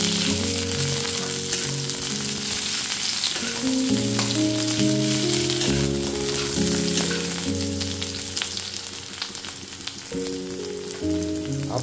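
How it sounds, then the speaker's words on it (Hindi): Onions fry in hot oil, a loud continuous crackling sizzle close by, with occasional stirring strokes and no talk. "तो मैं प्याज डाल लेता हूँ थोड़ा सा, थोड़ा भून लेता हूँ प्याज थोड़ा सा।"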